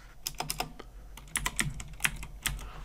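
Typing on a computer keyboard, a quick irregular burst of distinct key clicks in short clusters with brief pauses, close and clear, no voices.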